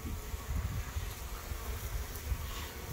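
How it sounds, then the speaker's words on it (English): Honey bees fan on the landing board of a hive, a close, continuous buzzing drone with gentle pulsing swells, with no voices over it. "Shuck some bees on the landing board to get them to fanning."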